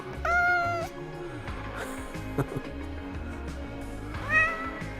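A cat meows twice, a loud drawn-out cry at the start and another a few seconds later, over a low background hum with faint knocks between.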